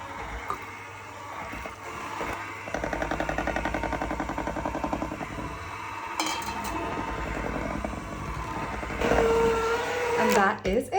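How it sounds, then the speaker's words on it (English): An electric whisk beats unsalted butter into icing sugar for frosting, a steady rattling, pulsing whir that runs loud for a few seconds, then eases into softer mixing noise in a kitchen. "pop the unsalted butter into the icing sugar and whisk those together"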